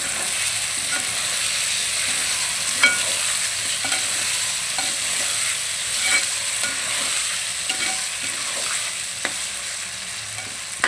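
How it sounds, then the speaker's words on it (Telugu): Chicken curry with bottle gourd, salt and turmeric frying in oil as it is stirred, a steady close sizzle broken by scattered scraping knocks of the spoon, no voices. "మొత్తం కలిపి తిప్పుతాను."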